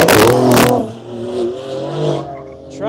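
Loud Corvette fitted with a large rear wing revving hard and accelerating away, its engine note rising and shifting through gears, with a brief tire squeal at the start.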